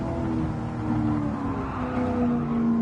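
In Gran Turismo 7 off-road racing, a car's tires lose grip and slide across the surface, a steady droning skid blended with a humming engine, close and continuous.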